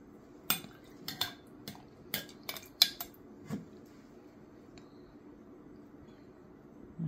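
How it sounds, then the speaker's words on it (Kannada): A metal spoon clinks and scrapes against a bowl while straining a mixture for nachos, making a handful of sharp, separate clinks spread over several seconds, close by with quiet pauses between them. "ಈ ಥರ ಸ್ಪೂನ್ ಯೂಸ್ ಮಾಡ್ತಾ ಇರೋದು ಸ್ಟ್ರೈನ್ ಮಾಡೋದು."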